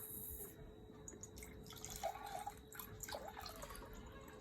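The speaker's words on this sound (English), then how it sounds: "Now I'll put this water in the other glass." Water poured from one glass into another during a children's density experiment with an egg and salt, faint trickling and dripping with small clinks against a quiet room hum.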